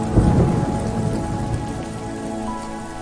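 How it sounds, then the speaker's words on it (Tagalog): Heavy rain pours in a dense, loud hiss with a low rumble like distant thunder underneath, steady throughout with no voices. "Wow! Ang lakas ng ulan."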